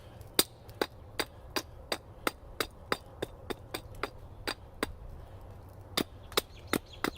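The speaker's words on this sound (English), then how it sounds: "Ooh, does my axe need sharpening?" Sharp axe chops land on wood about two to three times a second while a handle for an auger is shaped outdoors at a bushcraft camp, fairly close but not loud, no voices.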